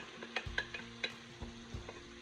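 Two cloves of minced garlic stirred as they sizzle in a pot for tomato soup, with a soft steady fry hiss under several sharp knocks and scrapes of a utensil against the pot, close and fairly quiet, no talking.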